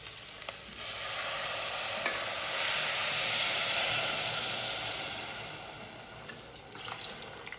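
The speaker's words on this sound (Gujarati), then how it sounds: "હવે આપણે જે છાશ લીધી હતી એ આપણે છાશ નાખી દઈશું." Sour buttermilk pours into a pan of rice for chhaas bhaat, a soft sustained liquid hiss and sizzle that swells and fades, with a few faint clinks and no voices.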